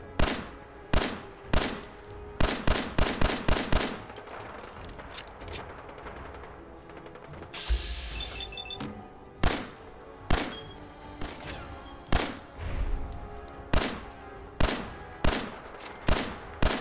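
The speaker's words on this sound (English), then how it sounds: "It's a very nice handling pistol. It's really easy to use. Not really any delay between shots." Rapid pistol shots from a modded handgun in Fallout 4, sharp loud cracks fired in quick bursts and steady single shots with almost no delay between them, with a brief low rumble midway.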